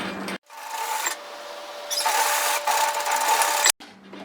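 A sewing machine stitches the shoulder seam of a bomber-style varsity jacket, a steady mechanical whirring run that starts after a brief pause and stops abruptly near the end.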